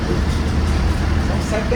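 A 2014 Marcopolo Torino bus on a Mercedes-Benz OF-1721 chassis hums with a steady, low diesel drone while driving, with road noise throughout and someone talking over it.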